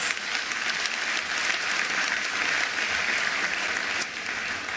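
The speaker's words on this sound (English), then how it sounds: "I'd like us to give a hand of applause to our educators." A large audience applauds educators at the 2024 matric results announcement, a sustained even roar of clapping with no talk over it.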